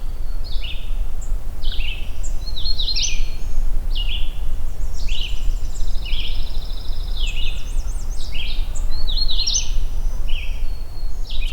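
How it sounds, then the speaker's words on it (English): A magnolia warbler sings on an overcast morning, repeating short, bright high-pitched phrases at steady intervals over a constant low background hiss, with other faint chirps mixed in. "what I think is a magnolia warbler here"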